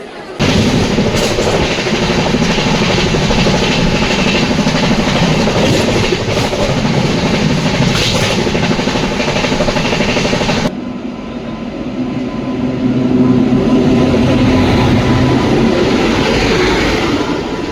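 A Solapur to Mumbai general class train rumbles steadily along the rails with a continuous loud roar, the tone shifting partway through as the carriage sound changes.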